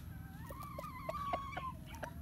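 Faint, distant clucking and a drawn-out crow from gamefowl, with soft repeated calls over a quiet outdoor background.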